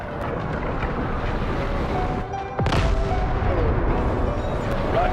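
An artillery barrage in the video game Delta Force rumbles in a constant dense roar, with a sudden sharp blast midway and heavy, sustained booming continuing afterward.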